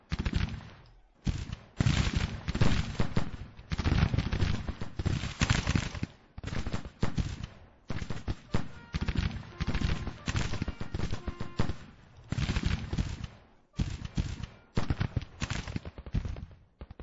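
Heavy, sustained gunfire from massed infantry in a Grand Tactician Civil War battle, dense overlapping rifle volleys and crackling fusillades rolling almost continuously with brief lulls.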